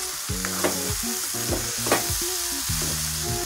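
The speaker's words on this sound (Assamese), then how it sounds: "এতিয়া এইখিনি দি ভালদৰে ইয়াত ভাজিম মছলাটো" Spice masala of cumin and coriander powder frying in a pan while a utensil stirs and scrapes it, a close crackling sizzle broken by rhythmic tonal scrapes of metal against the pan, no talking.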